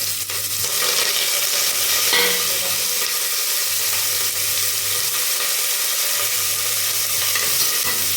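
Onion, chili and curry leaves frying in hot oil after mustard seeds have popped, a loud steady crackling sizzle lasting throughout with a faint low hum beneath, close up and alone.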